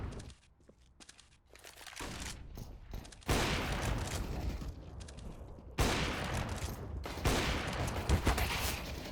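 Gunfire in the Counter-Strike video game, AWP sniper shots and a USP pistol, heard as several sharp loud reports with bursts of noise, mixed with footsteps and shuffling between them.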